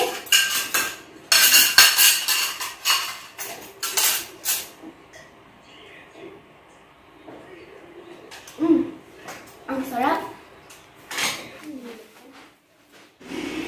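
Plates, cutlery and dishes being cleared from a home table after a breakfast of ube cheese pandesal, with clinks and clatters in bursts early on and voices talking through the later part.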